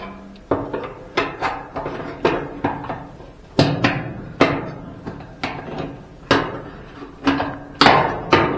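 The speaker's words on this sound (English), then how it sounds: "Might be that a socket and a mallet would be the proper way to do that." A mallet taps a socket during a Kenmore dryer belt and roller installation: about fifteen sharp, close knocks in an irregular rhythm, each with a brief metallic ring, and no talking.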